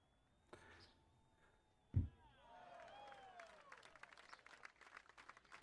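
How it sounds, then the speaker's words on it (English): A virtual gallery crowd in the golf game Triple Bogey Golf breaks into soft, steady applause after a sharp thump of the ball being struck, the clapping continuing faintly to the end. "Hey, they're clapping for me."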